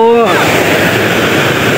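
Rushing river in Paddar Valley, Jammu and Kashmir, a loud, steady broadband roar of flowing water close by, with a brief voice at the very start.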